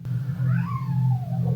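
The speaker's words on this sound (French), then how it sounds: "Pourquoi il râle, ce bébé chat?" A kitten grumbles and meows indoors, letting out one drawn-out, wavering complaining meow over a low steady rumble, close and fairly loud.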